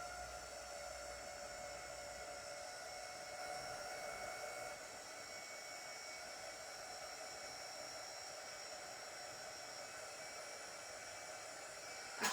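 A hair dryer blows on a handmade craft door round: a steady, loud, even whoosh that runs unbroken for the whole stretch and cuts off at the very end, with no talking.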